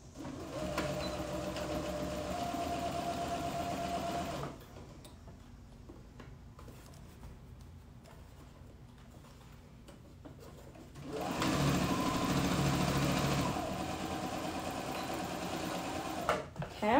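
A sewing machine stitches elastic shorts in two long, steady, close runs with a quieter pause between them.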